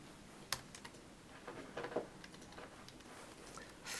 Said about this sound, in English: we will just type copy assignment